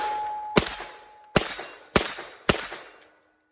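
A POF-5 MP5 clone pistol-caliber carbine fires four loud, spaced shots, each a sharp crack with a short ringing tail, until the magazine runs empty and the sound stops.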